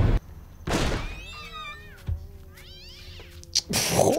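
Several cats meow and yowl in a horror film scene, a run of rising and falling cries at close range between loud bursts of noise and crashes.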